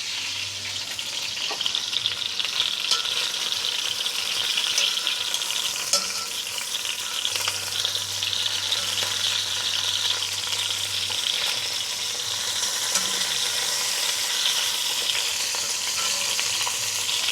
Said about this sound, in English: same thing on this side. That get a nice sear.